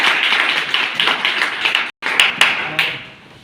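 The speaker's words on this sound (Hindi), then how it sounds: "इनके लिए भी तालियां" Coaching class students give Anil sir a round of applause: thick, continuous clapping with a brief sudden break, then scattered sharper claps before it thins toward the end.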